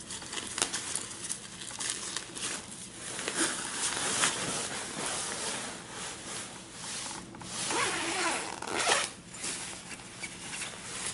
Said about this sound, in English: Unzip this, you can go inside and then zip this thing back.